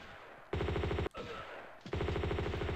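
Heavy automatic gunfire from bigger guns in the video game Tomb Raider II, two long rapid bursts of loud rhythmic shots separated by a short break with a single sharp blast and some rumble.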